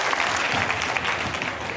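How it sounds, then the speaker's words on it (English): A conference audience gives a brief, dense round of applause, steady throughout with no voices over it. "Nice, and a round of applause."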